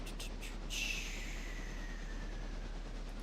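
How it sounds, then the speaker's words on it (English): A modded Southern locomotive in a railroad video game rumbles steadily with a faint rising whine, a low continuous drone throughout. "We're driving a Southern locomotive, but of course this is modded in."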